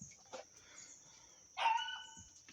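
A dog barks once, then gives a short, loud yelping bark with a whine nearby indoors, with quiet background noise around it.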